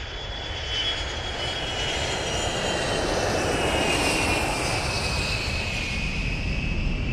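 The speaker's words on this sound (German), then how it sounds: "Habt ihr das Flugzeug gesehen?" A propeller airplane drones overhead in the train-driving game Train Simulator Classic, a loud steady engine roar holding throughout with a slowly shifting whine as it passes, heard alone.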